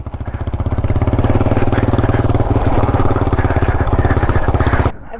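A Yamaha Raptor 250 quad's engine runs steadily and loud up close for about five seconds, holding a throaty, even pulse under load before dropping away abruptly near the end.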